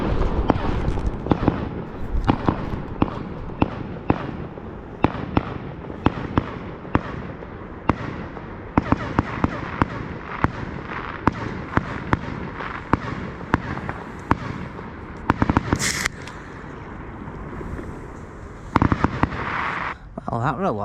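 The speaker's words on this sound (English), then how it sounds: "that was a lot of noise, weren't it, for a firework?" Fireworks go off in a long, dense barrage of loud bangs and crackles heard from a distance, from a hilltop near trees by Manchester Velodrome, with people talking underneath.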